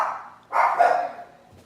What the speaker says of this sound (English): they're steady barking while I'm going live